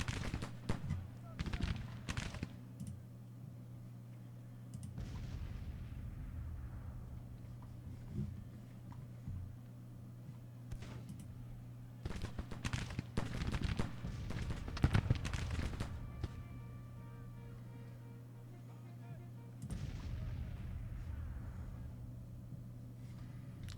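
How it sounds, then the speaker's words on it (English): Long-range skirmisher fire from Mississippi rifles in the Grand Tactician Civil War strategy game, at the Battle of Bull Run, heard as scattered bursts of rifle shots over a steady battlefield hum, with a voice talking over it. "Send now Bonham skirmishers on with their Mississippi rifles with a long range fire."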